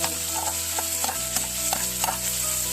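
Chopped onion fries with a pinch of pink salt in a pan, a bright steady sizzle broken by several rhythmic spatula stirs and scrapes; no voices.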